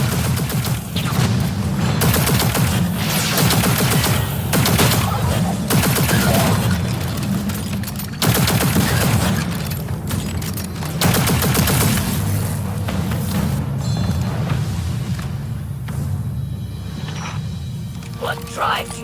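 Weapons fire at a transformer in Destiny 2: Beyond Light, with dense, sustained bursts of gunfire and booming impacts that continue loudly throughout, and a voice speaking over the shooting.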